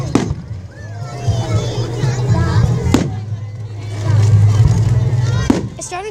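Fireworks explode outdoors in three sharp, loud bangs spaced a few seconds apart, with a crowd murmuring and people talking in between.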